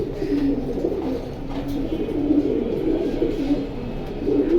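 A male pigeon cooing up close, soft low rhythmic coos repeating steadily over a faint background hum.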